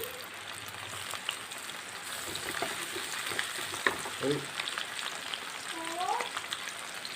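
Green chillies, shallots and garlic fry in a pan with a constant, fairly quiet crackling sizzle, with a few light stirring taps and faint squeaks over it.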